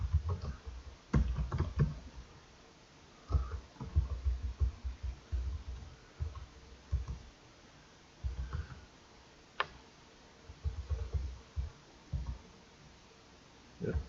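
Keys on a computer keyboard are typed during a Java programming class, bursts of quick soft clicks separated by short pauses, fairly faint and close, with no talk over them.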